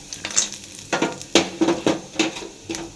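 Whole peanuts and curry leaves hit hot oil for sabudana khichdi, already seasoned with mustard seeds and asafoetida, giving bursts of crackling sizzle along with repeated stirring scrapes in a pan, close and lively.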